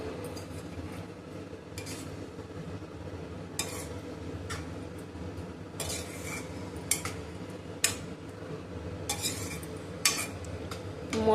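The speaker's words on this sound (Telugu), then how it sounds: "ఇప్పుడు పాలు పోసుకుని మిక్స్ చేసుకుందాం" A spoon stirs milk into a simmering vegetable curry in a pan, making soft wet sloshing under a low steady sizzle, with several brief scraping clinks of utensil against metal.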